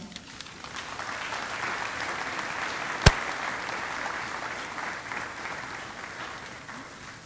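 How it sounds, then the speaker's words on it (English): Audience applause at the Golden West College Courtyard of Honor ceremony. Steady, moderately distant clapping runs through the whole stretch with one sharp loud clap near the middle. "Let's just one more round of applause for these wonderful, generous organizations."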